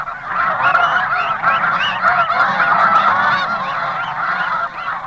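A flock of snow geese honks continuously in a dense, overlapping chorus, loud and close throughout, with no talk.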